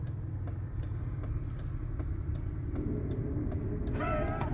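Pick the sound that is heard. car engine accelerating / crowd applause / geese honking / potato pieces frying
car engine accelerating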